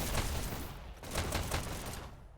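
Rapid bursts of gunfire in the competitive shooter Hyper Dash during a KAOS versus TRBL cup match, with a headshot landing: dense, loud, repeated shots with a brief lull near the middle, no talk.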